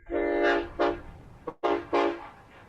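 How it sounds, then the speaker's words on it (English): Train horn blasts, several separate tonal honks of varying length with short gaps between them, loud and clear. "There's a lot of trains here."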